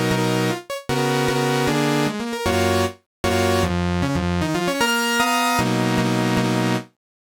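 Dry granular synth lead with a sawtooth-like buzzy tone and no effects, playing a choppy melodic phrase of bright sustained notes with brief gaps, loud and upfront.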